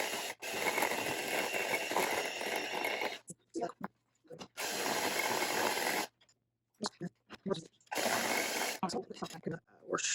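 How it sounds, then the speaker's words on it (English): An electric hand mixer blends ingredients for ham and Swiss cheese rolls, whirring loudly in three bursts separated by short gaps with clicks and handling noises. "I'm getting the mixer."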